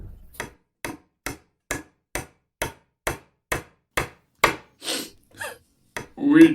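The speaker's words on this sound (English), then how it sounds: "They gaze upon her lifeless features before nailing the lid shut." A hammer nails a coffin lid shut in a dramatized gothic horror scene, with about a dozen sharp, evenly spaced blows ringing close and loud on wood, followed by a few softer, scraping knocks at the end.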